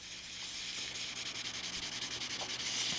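Close, rhythmic strokes of 600-grit sandpaper rubbing over a dope finish on a model aircraft, a steady scratchy back-and-forth repeated quickly and evenly without any voices.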